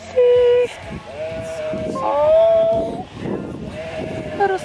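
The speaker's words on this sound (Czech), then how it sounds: "To jsou druhý ovce, který vidím." Sheep in New Zealand bleat repeatedly nearby, several wavering cries overlapping in an open outdoor setting, loud and clear with brief pauses between calls.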